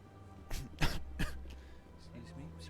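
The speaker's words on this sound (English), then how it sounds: "Sorry for the coughing." A person close to the microphone gives three quick coughs and clears the throat, each a short, sharp burst, during a Mass Effect game session with a low background hum.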